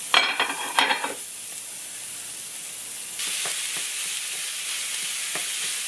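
Ground beef sizzles and fries steadily in a hot pan, with a few scraping stirs near the start and a louder burst of frying partway through, no voices over it.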